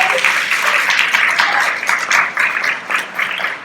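Campus audience at a student research presentation giving a hearty round of applause, dense continuous clapping that stays loud and close, rising and dipping slightly across the stretch.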